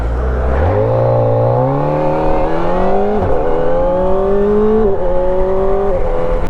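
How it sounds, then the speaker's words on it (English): Kawasaki ZX4RR sports bike with a 399cc inline-four engine revving hard while riding, pitch climbing steeply through successive gears with brief dips at each shift, loud and close throughout. "This is an all new inline 4 engine by Kawasaki, producing 399cc, 76 brake horsepower and 39 newton meters of torque"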